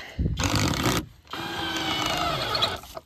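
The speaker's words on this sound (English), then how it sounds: "Now this is a drill that we got to practice with or to use." A small Sakar power drill whirs in two bursts, a short spin, a brief pause, then a longer steady run up close.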